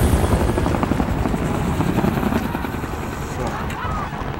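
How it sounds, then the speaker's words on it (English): A helicopter flies overhead in Call of Duty: Modern Warfare (2019), its rhythmic rotor beat loud and close at first, then fading a little, with voices talking over it. "Helicopter."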